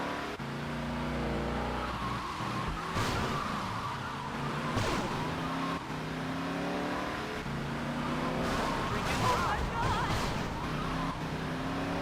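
Cars in a chase in the video game GTA Vice City, with tyres skidding and engines revving continuously while a siren-like tone sweeps under the racing noise.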